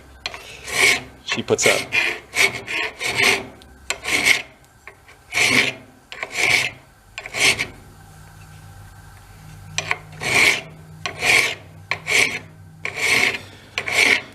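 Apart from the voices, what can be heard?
hand file filing metal on old mini bike part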